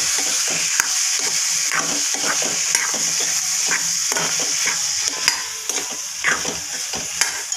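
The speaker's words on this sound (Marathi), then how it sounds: "आता मी त्यामध्ये हा फ्लावर टाकणार आहे। आता त्याला पण मी व्यवस्थित त्या मसाल्यांमध्ये परतून घेणार आहे।" Cauliflower is stir-fried with spices in a pan for a cauliflower and peas sabji, giving a steady sizzle over a rhythmic scraping stir.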